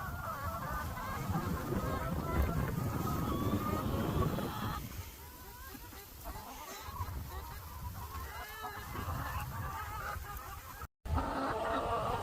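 Pasture-raised laying hens cluck and squawk excitedly as they eat an afternoon treat of feed, a busy flock chatter that is loud at first and then settles into softer, scattered clucking.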